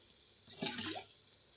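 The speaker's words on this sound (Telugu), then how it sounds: "ఇప్పుడు మనం ఇందులో కొంచెం నీళ్ళు పోసుకుందామండి" A short splash of water pours into a pot of dried fish, tomato and brinjal curry, a brief gurgling rush that rises and fades within a second.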